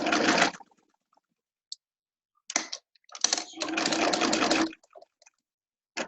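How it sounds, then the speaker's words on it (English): A sewing machine stitches fabric for a scrub cap in short bursts, running forwards and backwards with pauses between runs, loud and close with a steady whirring hum and no talking. "I'm going to sew forwards and backwards a couple of times just to pin it down"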